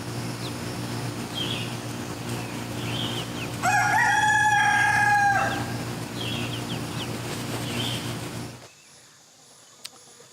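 A Buff Orpington rooster crows once, loud and drawn out, over a steady farmyard hum, followed by a few softer clucks before the background drops away.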